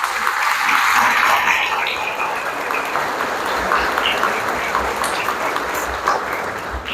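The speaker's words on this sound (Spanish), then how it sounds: "Un aplauso para ellos." A family audience gives sustained applause for relatives standing up at a comedy show, a steady, moderately loud crowd clapping that holds for several seconds with faint murmuring underneath.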